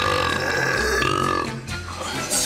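A man with a world-record loud burp lets out a long, deep, rumbling belch that is very loud and close and lasts over two seconds, with no talking.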